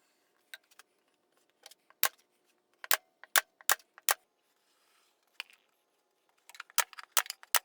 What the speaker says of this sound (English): I'm going to be using glue and just fire in pin nails as needed to hold it on.